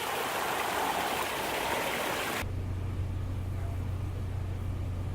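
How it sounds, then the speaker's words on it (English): The waterfall at the front of an aquarium shop's pond display gives a steady close rush of splashing water, then changes abruptly midway to a duller flow with a low constant hum underneath. "The waterfall in the front of Eddie's Aquarium."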